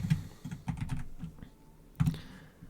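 Keystrokes on a computer keyboard as a search is typed, a short burst of several clicks, a pause, then another few taps, close and fairly quiet with no talking.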